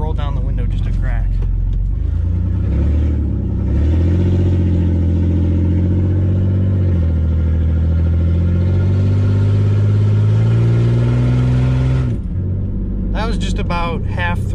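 A straight-piped GMC Sonoma truck engine drones loudly and steadily at half throttle from inside the cab, with a deep harmonic rumble that shifts pitch slightly before dropping off near the end.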